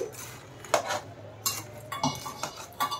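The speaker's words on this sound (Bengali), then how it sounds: "সমস্ত বড়াগুলো দিয়ে আমি একটু নাড়াচাড়া করে দিলাম।" Crisp fried fritters being stirred in warm jaggery syrup in a pan over a low flame, with a few separate clinks and scrapes of a utensil against the pan.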